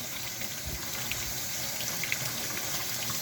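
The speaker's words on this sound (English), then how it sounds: "a sink full of tomatoes, fresh out of the garden. Rinse them off. Get all the dirt off." Fresh garden tomatoes rinsed in a sink under a running faucet, the water rushing and splashing steadily up close.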